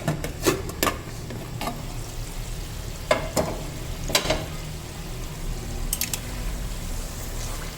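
Kofta curry masala being fried and stirred in a pan: a steady close sizzle broken by a handful of sharp spatula scrapes and clacks at irregular intervals, with no one speaking.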